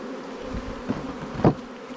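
Honey bees buzzing over a hive frame of drawn comb during a hive inspection, a steady low hum with a few louder close passes, faint overall and with no talk.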